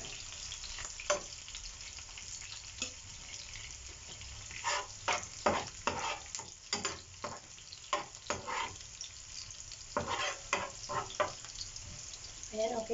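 Garlic fries in a pan for beef kare-kare, a steady sizzle broken by repeated bursts of scraping and stirring, with some faint running-water-like hiss and a voice speaking briefly.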